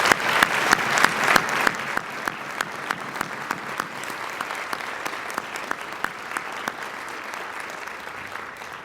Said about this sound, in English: So I'd like us to give a round of applause for him.